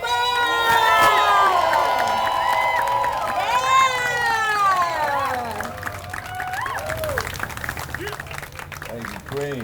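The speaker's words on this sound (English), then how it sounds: "I need everybody to give a round of applause for Malik Yoba!" A large crowd in the Bronx cheers and shouts loudly, with whoops and high voices over a dense roar, along with some applause, fading slightly toward the end.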